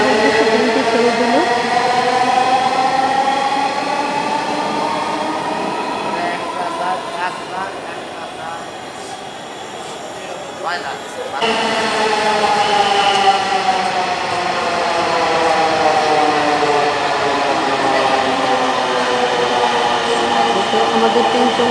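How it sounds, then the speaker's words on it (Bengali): Dhaka metro rail train pulling away toward Agargaon, a steady loud rumble with rising and falling whine tones from the motors, heard from inside the station or carriage amid crowd noise and voices. "আগারগাঁওর উদ্দেশ্যে ট্রেনটি ছেড়ে দিল।"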